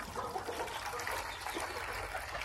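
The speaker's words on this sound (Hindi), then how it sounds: "इधर से ले जाके इसमें डाल देते हैं हम लोग पानी" Water pours and splashes steadily into a fish fountain at a mini zoo, a continuous close gushing sound with no talking.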